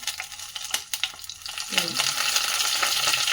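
Dried red chillies and curry leaves hitting hot oil, a few close spoon taps giving way to a loud, steady crackling sizzle.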